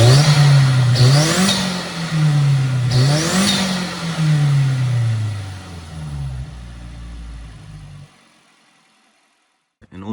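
Mazda engine with a broken turbo revving hard twice, the pitch sweeping up and falling back each time, then droning and settling before cutting off into near silence at the end.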